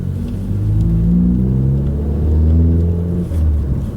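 A car with a six-speed manual gearbox pulls hard in second gear, its engine a loud, close, steady rumbling drone that rises gradually in pitch, with no one talking.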